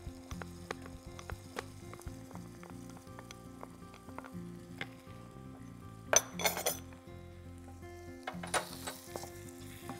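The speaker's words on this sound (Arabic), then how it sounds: "هقلب شوية لحد ما بس الفلفل يبتدي يدوب شوية" Red pepper frying in a pan while being stirred, giving a soft continuous sizzle broken by clinks and scrapes of a utensil on the pan, with a louder burst of sizzling midway and again near the end.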